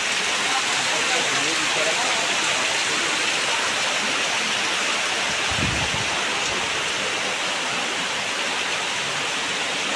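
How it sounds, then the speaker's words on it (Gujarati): Heavy monsoon rain pours down with rushing, flowing water in a steady, loud, dense wash, with a brief low thump midway. "ખંભામાં આટલો વરસાદ પાણી હતું"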